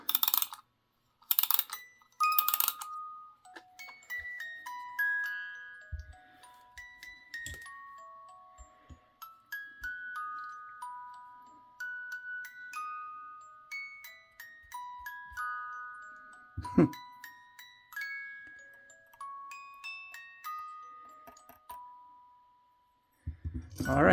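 A repaired wind-up music box plays a slow, delicate tinkling melody of bright plucked metal tones, quiet and close, with a few handling knocks and clicks at the start and end.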